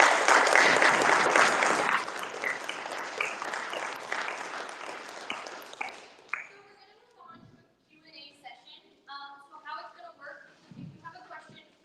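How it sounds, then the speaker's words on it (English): An audience at a university debate breaks into a round of applause, dense clapping loud for a couple of seconds then tapering off as a voice begins speaking over the fading claps. "Give yourselves a round of applause."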